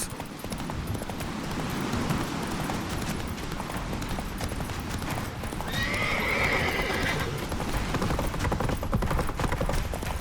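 Roach the horse gallops with rapid, continuous hoofbeats and lets out a neigh in The Witcher 3 on PlayStation 5, loud and close over steady background noise.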